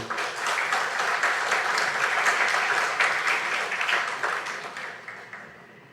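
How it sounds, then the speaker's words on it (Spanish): A crowd applauds steadily for several seconds, a dense wash of clapping that fades out toward the end. "un aplauso para nuestro coronel"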